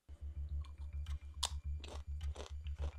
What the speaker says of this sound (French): Allez hop c'est parti, on va goûter celle de droite.